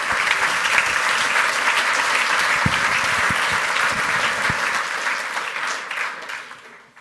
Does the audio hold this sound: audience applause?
yes